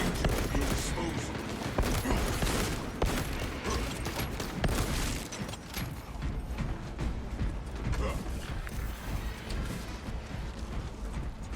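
Heavy bolt pistol gunfire in the Space Marine video game: dense, rapid bursts of shots with clanking mechanical impacts, steady and loud throughout, with a voice talking intermittently over the action.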